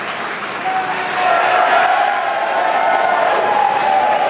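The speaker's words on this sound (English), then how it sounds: "Very exciting day, as you can hear the crowd behind me." A crowd applauds and cheers at the CRS-20 Dragon launch, a broad wash of clapping and whoops that swells after the first second and holds steady, somewhat distant, with some speech mixed in.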